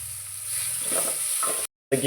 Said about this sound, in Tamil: பட்டை வெங்காயம் போடணும் போட்டு நன்றாக வதக்கவும்